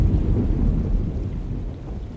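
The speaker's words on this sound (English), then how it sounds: "Looks like a storm's coming." Thunderstorm in the video game Alone in the Dark, a deep rumble of thunder rolling under steady rain, loud and close, fading slightly toward the end with no voices.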